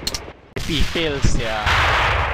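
Shots from an SW1911 pistol in a video game, sharp loud cracks near the start and mid-clip, followed by noisy broadband blasts, with a voice speaking over the gunfire.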